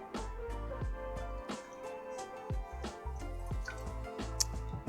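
Water drips and squishes from a wrung-out, loom-knitted placemat in a series of small wet drops and squeezes, close and quiet, over a steady low background hum.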